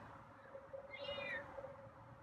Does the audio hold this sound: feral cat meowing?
yes